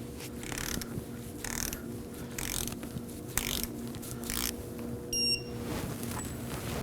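A torque wrench on the front left CV axle nut of a 2016-2020 Kia Sorento gives a string of close mechanical ratcheting clicks in uneven bursts, with a brief higher metallic ring near the end and no talk.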